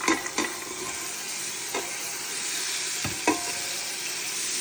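Vegetables cook in about two tablespoons of butter in a pan, giving a constant close hissing sizzle with a few sharp clicks of a utensil against the pan.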